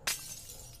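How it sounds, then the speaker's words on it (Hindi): Glass shatters in a horror video game: one sharp, bright crash that fades into a short rattling tail against a low background hum. "किसने कांच तोड़ा भाई?"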